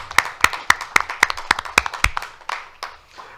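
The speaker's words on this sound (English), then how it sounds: "So I'd like to give them just one more last round of applause" A round of applause for departing staff at a city sustainability commission meeting: crisp, fairly close hand claps, around a dozen distinct beats, thinning into scattered, softer claps near the end.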